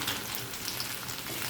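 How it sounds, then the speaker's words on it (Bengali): Onions fry in hot oil with dried chillies for beef kala bhuna, a loud, dense, continuous sizzle close up with crackling spits throughout, no voices. "এখানে আমি আরও দিয়ে দিচ্ছি পেঁয়াজ বেরেস্তা করে নিচ্ছি"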